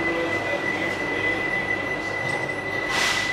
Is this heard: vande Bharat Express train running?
yes